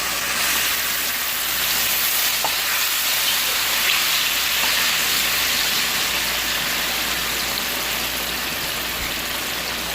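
Shrimps and plantain frying in hot oil give a steady, even hiss like light rain that runs throughout, fairly close, with a few faint clicks and no voices.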